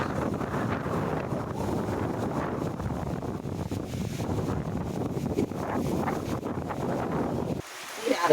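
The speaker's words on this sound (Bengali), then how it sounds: "দেখুন গাছের পাতাগুলো খুব জোরে জোরে কিন্তু নড়াচড়া করছে, কারণ ঝোড়ো হাওয়া উঠে গেছে" Strong stormy wind gusts through village trees, buffeting the microphone in a loud, rushing roar with rustling leaves that continues almost to the end, then drops away abruptly.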